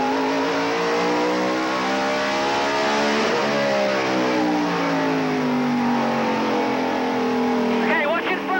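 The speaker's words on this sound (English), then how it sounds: "Let's go to Michael Waltrip's in-car camera and listen." NASCAR Winston Cup stock car racing at Martinsville in 1995, heard from an in-car camera: a loud, sustained engine drone with pitch sweeping down and back up through the corners, close and dominant, with a brief pitch jump near the end.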